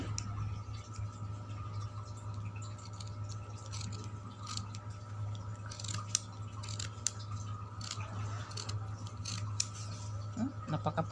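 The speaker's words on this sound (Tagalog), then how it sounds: "Napakapurol ng gunting." Dull scissors cut through old cloth for a homemade baby dress, making repeated soft snips and crunches at close range over a steady low hum.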